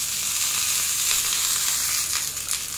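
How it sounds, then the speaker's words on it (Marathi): Green chillies and ginger sizzle in a small amount of oil on a hot griddle, a steady, close frying hiss that runs unbroken with no voices. "आता ह्या अशा आपण एक अर्धा मिनिट फक्त या तेलात परतून घ्यायचं आहे"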